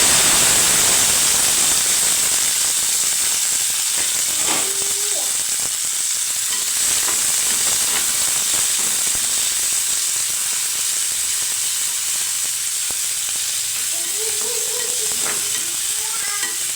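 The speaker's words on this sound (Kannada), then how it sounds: "ಸಾಸಿವೆ ಜೀರಿಗೆ ಸ್ವಲ್ಪ ಚಟಪಟ ಆದಮೇಲೆ ಈರುಳ್ಳಿ ಹಾಗೆ ಟೊಮ್ಯಾಟೊನ ಹಾಕ್ಕೊಳ್ತಾ ಇದ್ದೀನಿ." Onion and tomato fry in hot oil with crackling mustard seeds and cumin, giving a steady, loud, close sizzle with a few scattered stirring clinks and pops throughout.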